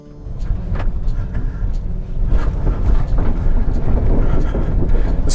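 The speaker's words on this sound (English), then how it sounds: "This rattly old bridge, it's just had some boards replaced." A 2020 Subaru Impreza rolls over a rattly old wooden bridge with newly replaced boards in a national park, giving a steady close road rumble with irregular knocks and clatter from the planks, and no talk.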